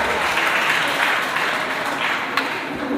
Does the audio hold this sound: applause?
yes